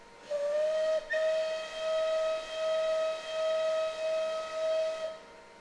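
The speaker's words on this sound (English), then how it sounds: "There's our whistle." A steam locomotive whistle in Train Simulator Classic, on an SR/BR Bulleid Light Pacific 4-6-2, blows a sustained, clear tone, then repeats in a looping series of even pulses, with a faint hiss underneath.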